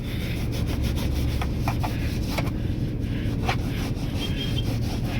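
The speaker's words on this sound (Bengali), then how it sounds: "তো ঘষছি এগুলো, দেখুন কিছুক্ষণ পরে পুরো এগুলো ক্লিন হয়ে যাবে একদম।" Stubborn stains on a car centre console get scrubbed with a homemade cleaning liquid, producing quick, close rhythmic rubbing strokes over a steady low background hum, with no voices.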